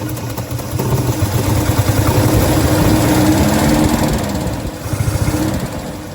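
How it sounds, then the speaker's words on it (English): An old 1948 Studebaker Champion engine idles loudly and close by, with a lumpy, rhythmic chug that stays steady. "the whole engine and the whole car are dancing"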